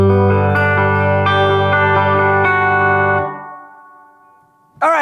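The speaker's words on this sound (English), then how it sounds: "I can sneak in a little bit of modulation" A Universal Audio Golden Reverberator pedal plays a held, distorted chord drenched in reverb with an octave-up shimmer in its tail. The tail fades to near silence before another bright, swelling note begins.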